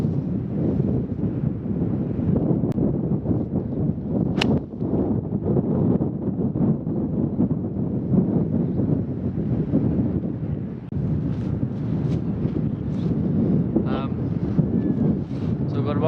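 Strong gusty wind buffets the microphone on a golf course, a constant loud broadband roar that persists throughout.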